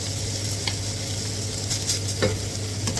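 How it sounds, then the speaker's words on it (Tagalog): Chicken pastil stirred in a hot pan: a continuous close sizzle broken by occasional scraping and clinking of a utensil against the pan. "So, haluin na natin."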